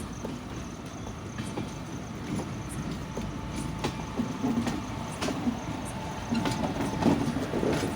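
A freight train of about twenty wagons rolls along the rails at a steady low rumble, with scattered clicks and clanks from the wheels and couplings and no talking.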